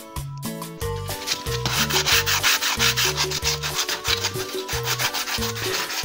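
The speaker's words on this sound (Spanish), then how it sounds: "así que le estoy dando una pequeña lijadita para eliminar rebabas de esta figurita" Sandpaper rubs over a small paper-craft Freezer figure from Dragon Ball Z to remove burrs, a steady rhythmic scratching of short strokes, close and moderately loud, with background music playing throughout.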